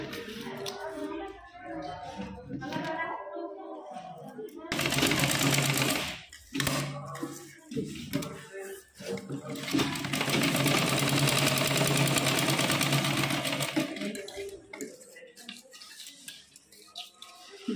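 A sewing machine stitches a blouse collar in two long runs of steady, rapid mechanical whirring, separated by pauses with speech.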